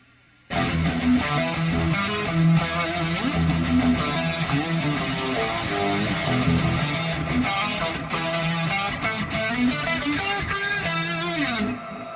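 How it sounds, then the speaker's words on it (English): A dense, continuous synthesizer-like instrumental passage played from a guitar fed through a synth, starts abruptly and plays steadily for about eleven seconds with sustained tones and busy, sharp attacks, then cuts off. "the other instrument is a synthesizer that sounds like this"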